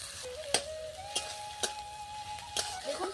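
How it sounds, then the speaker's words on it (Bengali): A paste of ginger, garlic, whole cumin and dried chilli sizzles in a pan, a steady close fry broken by a few sharp clinks of a spoon stirring against the pan. "দিয়ে ভালো করে মশলাটা কষিয়ে নেব।"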